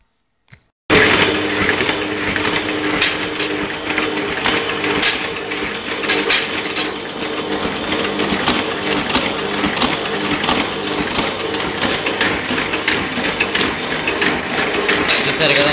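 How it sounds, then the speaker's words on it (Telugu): A Hamada 555 CDA two-colour offset printing press running at high speed kicks in after a second of silence, then a loud, dense mechanical clatter with rapid rhythmic ticking and a steady low hum, close up and continuous to the end. "చాలా స్పీడ్ అనమాట, high speed. Double colour machine అనమాట ఇది."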